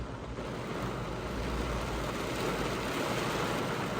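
Torrential rain heard from inside a parked car, a dense, loud, steady roar of drumming water with no gaps and no voices.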